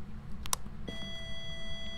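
An EMF reader in the ghost-hunting game Phasmophobia gives a couple of short, sharp electronic beeps followed by a sustained tonal hum over a quiet, low background rumble.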